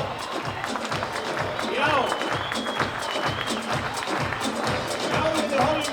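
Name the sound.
audience applause at a stallion show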